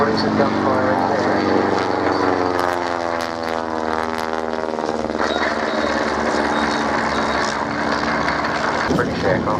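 A replica WWI Fokker triplane flies past at an RAF Cosford air show, its propeller engine droning loudly with a clear pitch sweep as it passes, while a commentator talks over it.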